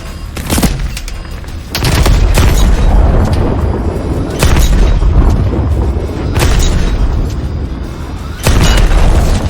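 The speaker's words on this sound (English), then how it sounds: "Use your cannon on those tanks." Heavy cannon blasts and explosions in the video game Call of Duty: Advanced Warfare, several loud booming impacts spaced a couple of seconds apart over constant rumbling battle noise.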